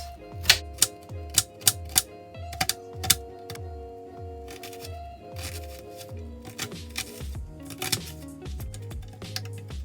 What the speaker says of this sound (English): So we're going to start off with cutting up the onions.